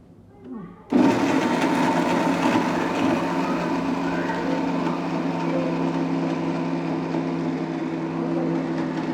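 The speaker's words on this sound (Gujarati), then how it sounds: "ચલો હવે આને આપણે ક્રશ કરી નાખવાનું." Fried muthiya for motiya laddoo being crushed in a blender. The motor starts abruptly after a moment of quiet, then runs as a loud, steady whirring grind close by, without voices.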